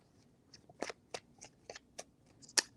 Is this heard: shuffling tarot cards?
yes